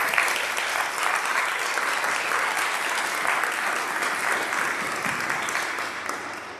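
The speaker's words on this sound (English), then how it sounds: "So can we give them all a round of applause?" A room of parents and students gives sustained applause for eighth grade speakers at a school event, a dense, even wash of clapping that holds steady and fades slightly at the end.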